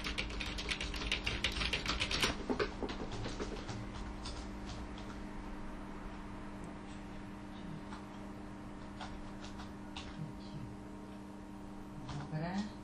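Quick clicking keystrokes on a computer keyboard while writing in Word, close and brisk at first and then thinning to scattered taps over a steady low hum.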